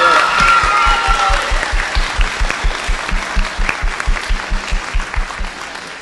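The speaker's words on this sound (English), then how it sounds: "If you could please give them a round of applause as well" Applause at a school sixth-grade graduation ceremony for the class of 2023: a sustained round of clapping from the audience, steady and fairly loud throughout, with a brief voice at the start.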